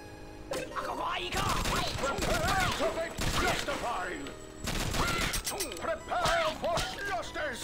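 Gunfire in the side-scrolling shooter video game Not A Hero sounds as rapid overlapping shots and impacts over dense game music and effects, loud and continuous, with a voice talking over the action.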